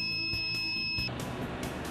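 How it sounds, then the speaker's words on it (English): A steady high-pitched electronic engine temperature alarm sounds continuously when maximum temperature is reached, then cuts off partway through, leaving a duller background hum. "The alarm sounds when the maximum temperature is reached."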